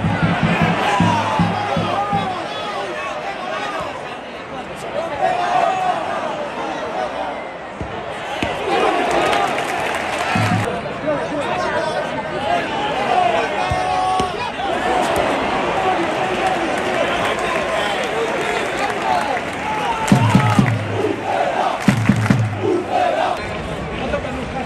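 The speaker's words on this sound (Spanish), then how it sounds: "La afición del Pucela despidiendo a Fekir con aplausos" A stadium crowd at a Real Valladolid vs Real Betis football match applauds and cheers as Fekir leaves the pitch, a sustained roar of voices and clapping with surges and a few sharp claps near the end.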